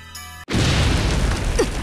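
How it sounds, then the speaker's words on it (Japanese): A sudden ground explosion in the fighting game BlazBlue Centralfiction hits as one loud, sharp blast after a brief cut to silence, then trails off in a rumbling, crackling roar. "なんだ、いきなり地面が爆発したぞ。"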